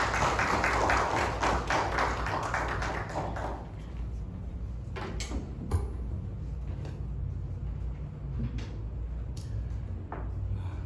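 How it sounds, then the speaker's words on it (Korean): A church congregation claps together to welcome a pastor, a dense burst of applause for a few seconds that thins into scattered claps and faint room noise. "다시 한번 우리 박수로 환영하십시다."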